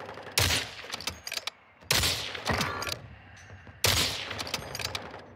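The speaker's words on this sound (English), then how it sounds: "Requesting fire mission. Target marked. Copy that. Mortar strike inbound." Three loud mortar strike explosions land in sequence in Warzone 2 on Vondel Park, each a sharp blast with crackling debris and rumble, spaced about one and a half seconds apart.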